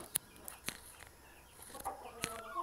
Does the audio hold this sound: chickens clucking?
yes